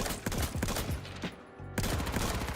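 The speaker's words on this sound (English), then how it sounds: "a gun with that sort of rate of fire should kill a little bit quicker than that" Rapid automatic gunfire from a gun in the video game H1Z1 on PS4, fast close bursts of shots that pause briefly mid-clip, then resume loudly.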